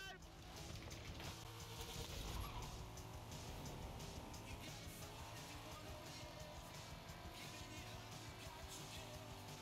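Car driving in Forza Horizon 5, a steady engine and road rumble running continuously and fairly loud throughout, with game voices talking over it.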